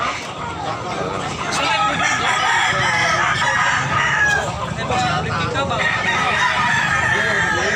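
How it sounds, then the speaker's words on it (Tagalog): Roosters crow repeatedly while chickens cluck all around, a dense, loud barnyard chorus with steady background noise throughout. "Dami nilang manok"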